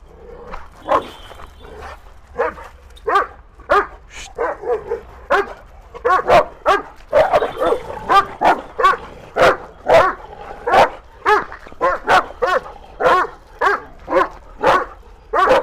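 Dogs bark repeatedly in quick bursts, loud and close, with a steady rapid rhythm building through the clip.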